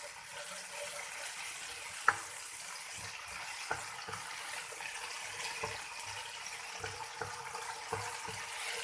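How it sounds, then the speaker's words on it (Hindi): Peas with softened tomatoes frying in a pan for vegetable macaroni, a soft steady sizzle with occasional clicks and taps of stirring, close and quiet throughout. "इसके अंदर डालेंगे मटर। इसको थोड़ा फ्राई करेंगे।"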